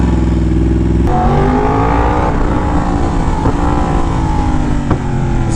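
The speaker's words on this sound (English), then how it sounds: "This bike is still obnoxiously loud." Yamaha R1M sportbike engine, very loud and close, revving with rising pitch through several gear shifts marked by brief pops, with no talking.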